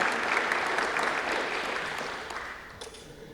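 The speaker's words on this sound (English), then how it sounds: "give General Driggers and his team one more round of applause at Fort Sam and Joint Base San Antonio" Sustained applause from an audience at a military Legion of Honor induction ceremony at Fort Sam Houston, Joint Base San Antonio, steady and full before slowly tapering off.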